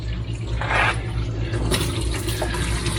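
Water diverted along a channel on a farm, flowing and splashing steadily throughout, with a brighter gush partway through.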